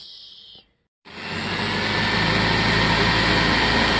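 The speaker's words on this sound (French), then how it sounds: "je vais percer avec la perceuse au fond, en essayant de ne pas attraper le polystyrène avec le forêt" An electric drill bores through the back of a polyurethane foam insulating box for a DIY incubator, cutting in after a brief silence as a loud, steady, broadband whir that holds constant to the end.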